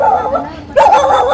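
A dog barks and yelps loudly and close by, a sharp burst of barking in the second half, with people chatting around it at a gate.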